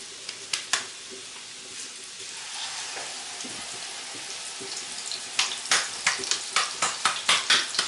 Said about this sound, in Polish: spłaszczamy i smażymy na rozgrzanym tłuszczu